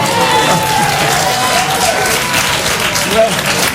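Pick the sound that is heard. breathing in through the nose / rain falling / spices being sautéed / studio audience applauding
studio audience applauding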